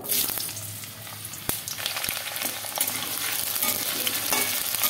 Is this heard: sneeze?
no